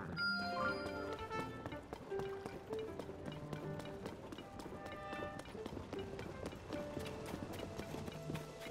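Rapid hoofbeats drum steadily as a horse gallops in the video game The Legend of Zelda: Tears of the Kingdom, layered under melodic music with plucked and sustained notes throughout.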